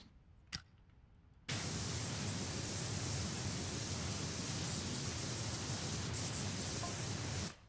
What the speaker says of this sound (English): Ah, yeah, that gentle white noise ambience.